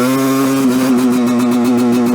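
A Suzuki motorcycle engine fitted with a Lectron carburetor, held at wide-open throttle on the rev limiter: a loud, sustained high buzz with a rapid pulsing stutter from the electrical cutout.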